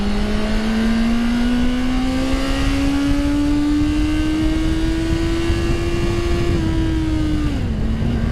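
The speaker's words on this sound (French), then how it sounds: "Alors les moteurs 4 cylindres, quand ils sont dans les tours, comme ça, hurlent." A Honda CBR 650 R four-cylinder motorcycle accelerates hard in first gear, its engine note climbing steadily into a loud, close, high-revving wail before easing off at the end.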